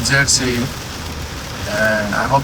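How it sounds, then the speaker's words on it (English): Heavy rain pounds a van driving downhill through a thunderstorm, a steady wash of hiss and drumming, with a voice talking over it at the start and end. "We are going downhill and it's raining like crazy. That's a lot of rain."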